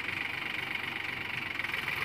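A Sonalika 745 tractor engine runs steadily while the tractor sits stuck in mud on a bad, slippery track, a continuous close rumble with a bright mechanical whine and no talk.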